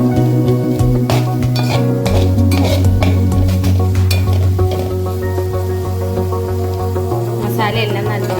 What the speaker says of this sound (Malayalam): ഒരു 1 മിനിറ്റ് നല്ലോണം ഫ്രൈ ചെയ്യും.